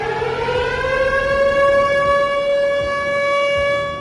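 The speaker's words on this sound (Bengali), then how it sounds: "ক্ষেপণাস্ত্র নিক্ষেপের পর অধিকৃত আল কুদসে বিমান হামলার সাইরেন শোনা যায়।" An air raid siren wails over occupied Jerusalem after a missile launch, a loud, steady civil-defense tone with strong harmonics that holds on continuously, with no voices.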